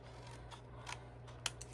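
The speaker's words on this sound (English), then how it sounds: "I'm going to take my scissors, and I'm going to miter the edge of that." Scissors snip at the edge of a pre-scored paper kit piece, mitering it with a few faint, quick cuts over a steady low hum, close but quiet, with no talking.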